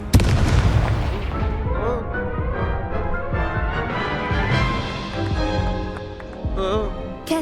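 Fiery Confringo blast spell from the Hogwarts Legacy video game, a loud booming explosion with crackling bursts over dense, busy game audio and music, with further pops and a sharp burst near the end.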